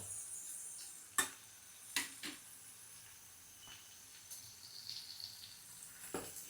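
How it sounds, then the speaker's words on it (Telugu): Ingredients for a tomato, ginger and garlic chutney fry quietly in a pan, giving a soft, steady sizzle with a few sharp clicks of a stirring spoon. "మంచిగా వేగుతున్నాయి కదా"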